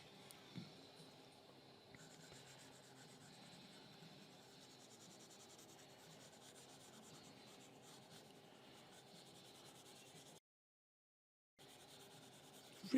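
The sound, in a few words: pencil shading on paper while sketching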